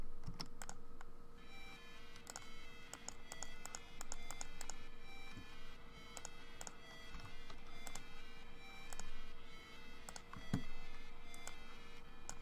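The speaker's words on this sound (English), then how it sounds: "That way, you guys don't have to hear me clicking away." A computer mouse and keyboard clicking close to the microphone during photo editing make quiet, irregular clicks and taps that continue steadily throughout.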